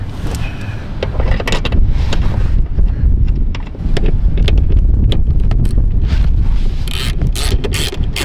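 Strong wind blows at a beach campsite, a loud continuous roar buffeting the microphone, with rattling and clanking mechanical sounds nearby.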